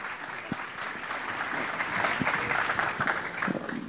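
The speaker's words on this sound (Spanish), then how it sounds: "¿Qué les parece si arrancamos con un gran aplauso" Audience applause opening a conference talk on gender ideology, a sustained crowd of hands clapping in a hall at moderate loudness, swelling slightly midway and continuing steadily to the end.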